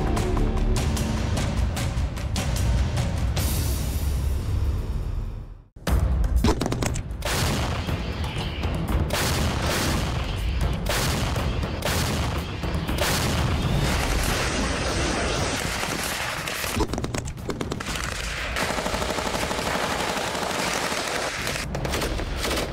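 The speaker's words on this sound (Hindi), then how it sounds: "ये राइफल चुन चुन कर यूक्रेन के दुश्मनों को निशाना बना रही है।" Ukrainian sniper rifle gunfire in the Russia-Ukraine war, fired from cover in snow and brush: loud, dense bursts of shots and booms run almost without a break, with one brief silent gap early on.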